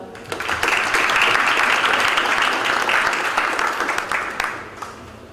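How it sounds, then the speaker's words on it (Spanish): A crowd at a university-law forum gives warm applause to student federation representatives from the Catholic University; loud, dense clapping rises quickly, holds strongly for several seconds, then thins out near the end. "a quien damos un caluroso aplauso"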